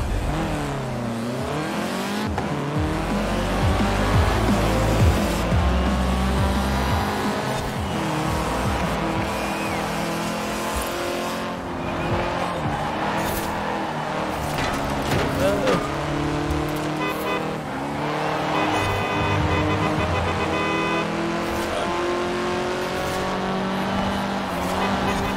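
Race cars in a Forza racing game demo, one a Ferrari, roar through gear changes with engines revving and tires squealing, loud and continuous throughout, while a voice talks over the action.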